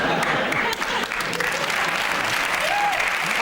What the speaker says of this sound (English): Yeah, you may applaud